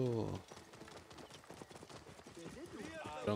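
A camel walks in the Assassin's Creed Origins video game in Thebes, giving a soft, irregular clip-clop of footsteps at moderate distance. A voice is heard briefly at the start.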